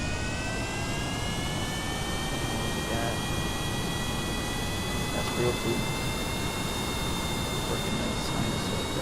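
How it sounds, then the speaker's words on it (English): Aircraft jet engines in the Kerbal Space Program video game spool up into a steady, high whine with slowly climbing tones that runs throughout, with someone briefly talking over it. "Alright, so we're gonna start up our jet engines."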